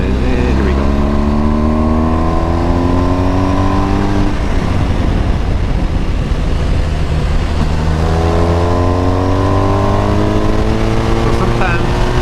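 A race car engine climbs through rising revs on full throttle out of a corner, drops briefly through a shift and climbs again, loud, close and continuous inside the cabin.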